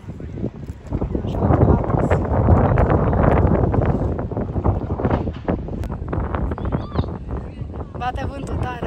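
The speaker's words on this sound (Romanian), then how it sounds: "Bate vântul tare, ne spulberă părul, nu contează." Strong wind in Edinburgh buffets the microphone with loud, gusty rumbling that rises and falls, while people talk over it.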